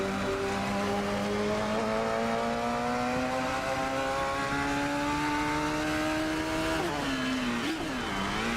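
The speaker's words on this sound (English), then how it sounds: "On the power, braking now into the right-hander through the chicane" Race car engine in a sim racing video game during a Formula Student finals event, loud continuous high-revving drone climbing steadily in pitch, then dropping sharply with downshifts under braking into a chicane.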